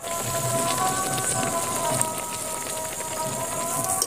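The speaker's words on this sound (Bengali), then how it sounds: "এইভাবে সব কচুরিগুলোকে আমি ভেজে নেব" Carrot-filled kachoris fry in hot oil with a dense, steady crackling sizzle that stays loud and even throughout, with no talk over it.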